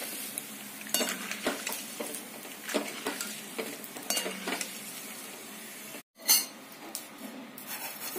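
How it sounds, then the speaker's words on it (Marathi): Maize poha flakes fry in hot oil, a crackling sizzle broken by repeated metallic clinks and scrapes of a stirring spoon against the pan, close and moderately loud, with one brief pause. "आपण अशा प्रकारे हे मक्याचे पोहे तळून घेणार आहोत"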